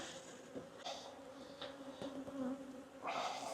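Buckfast honeybees buzz steadily around an opened nuc hive recently given an F1 Buckfast queen, a close, continuous insect drone with brief louder swells as bees fly past while the lid goes back on.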